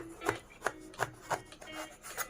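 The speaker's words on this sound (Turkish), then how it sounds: "kesiyoruz ve büyük parçalar halinde doğruyoruz" A knife chops eggplant into large pieces on a board: six or seven soft, evenly spaced thuds with a slight rasp, close by and quiet, with no talking.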